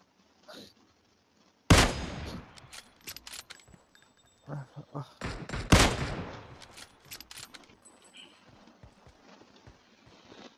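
PUBG match with bursts of gunfire, including a Kar98 rifle, two sharp loud shots ringing out over quieter scattered shots, footsteps and clatter, with a short voice briefly heard.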